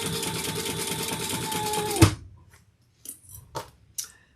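Sewing machine basting the layers of a waist pack, a fast steady whirring stitch for about two seconds that stops abruptly, followed by a few soft handling clicks and rustles.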